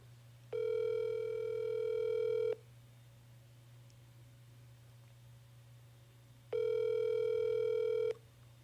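A phone line gives two long ringback tones, each about two seconds, separated by a pause of several seconds, steady and clear over a faint low hum with no talking.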